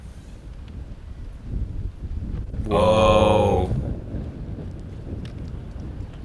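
Gusty wind rumbles against the microphone on a disc golf course, swelling and easing, while a person briefly exclaims in the middle.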